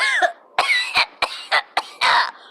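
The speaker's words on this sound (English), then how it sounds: "I'm so sorry for coughing all over you." Outdoors, one person coughs loudly and close by in a rapid series of about six harsh hacking bursts over a couple of seconds, with no speech.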